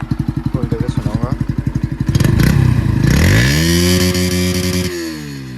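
A Bajaj Dominar 250 motorcycle engine idles with rapid, thumping pulses, then is revved hard to full throttle, its loud roar climbing and holding high before easing.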